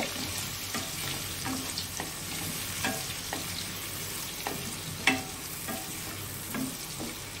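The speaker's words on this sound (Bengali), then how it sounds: "ভেজে নেব" Shrimp coated in salt and turmeric frying together with potato pieces in hot oil, a faint continuous sizzle broken by occasional stirring clicks and scrapes.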